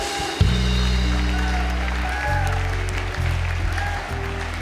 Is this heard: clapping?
yes